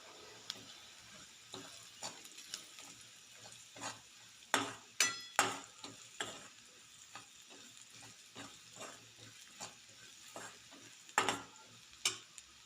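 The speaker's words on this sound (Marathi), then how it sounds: "कांदा छान परतला त्यामध्ये आता एक चम्मच हळद टाकूया चवीनुसार मीठ टाकूयात" Onions sautéing in a pan with turmeric and salt, for a red amaranth greens dish: a soft, quiet sizzle broken by scattered scraping stir strokes, a few sharper clinks of a spoon against the pan.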